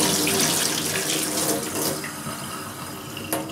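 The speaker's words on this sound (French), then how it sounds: "De l'eau tiède." Lukewarm tap water runs steadily into a sink while a beauty blender makeup sponge is rinsed, a loud close hiss with a brief splash near the end and no voices.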